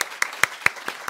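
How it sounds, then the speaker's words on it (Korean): A church congregation at an early-morning worship service gives a few slow, sparse claps, about five or six distinct hand claps spaced evenly and fairly close, with no voices over them. "우리 박수로 한번 축복해 주세요"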